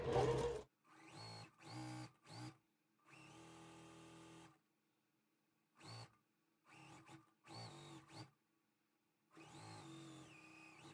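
Sewing machine stitching quilt four-patches together for a jewel box block, short bursts of rapid mechanical whirring separated by pauses, close and clear, with no talking.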